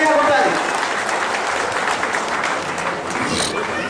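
Loud, dense applause from an audience at a political gathering for MP Kavitha, filling the whole stretch and easing slightly after the first half second, with crowd noise mixed in.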